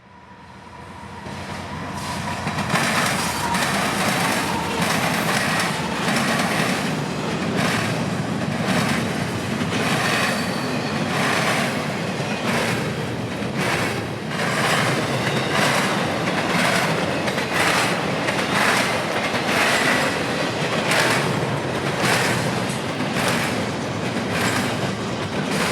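A freight train with EMD locomotives among its mixed power rolls past on a busy mainline, steady loud rumble with rhythmic clickety-clack of wagon wheels over rail joints throughout, no voices.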